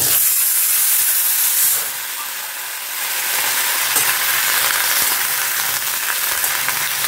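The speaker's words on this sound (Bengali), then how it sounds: "কালো জিরে ফোড়ন দিয়েছি, দিয়ে আর এই সবজিগুলো একটু ভাজি।" Mixed vegetables fry in hot oil tempered with black cumin seeds, a loud, continuous hissing sizzle that dips briefly in the middle and then swells back, with no talking.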